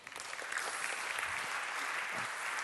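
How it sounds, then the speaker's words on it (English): Warm round of audience applause at a tech conference as presenters come onto the stage, clapping swelling in quickly then holding steady, somewhat distant and soft. "So please welcome everyone with a warm round of applause onto the stage."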